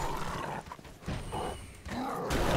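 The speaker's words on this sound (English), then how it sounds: "I heard like an Ultra Wolf growl over here." In Dark Souls 3 a big wolf lets out deep, throaty growls in two or three rumbling surges, close and raw, with game ambience between them.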